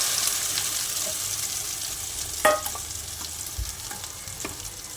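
Chutney ingredients for a Telugu mango coconut chutney, with chana dal, asafoetida and curry leaves, fry steadily in hot oil, a continuous close sizzle broken by a few sharp spoon or spatula clinks and stirring scrapes.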